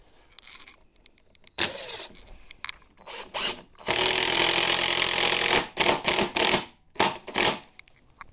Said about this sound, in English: These impact drivers are phenomenal.